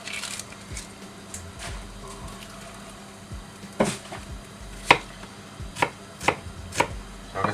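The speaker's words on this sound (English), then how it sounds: "And I'm going to chop up an onion and get that in there as well." A knife chops through small onions on a cutting board while noodles and tofu are being cooked, landing a handful of sharp, separate strikes near at hand over a quiet kitchen background, with no one speaking.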